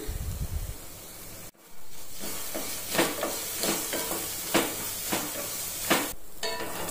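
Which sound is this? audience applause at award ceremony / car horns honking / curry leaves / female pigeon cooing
curry leaves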